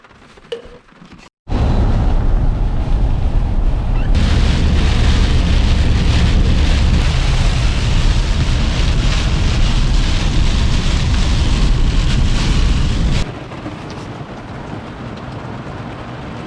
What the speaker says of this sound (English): Just a bit of rain today.